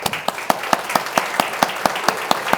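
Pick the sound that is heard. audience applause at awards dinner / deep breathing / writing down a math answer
audience applause at awards dinner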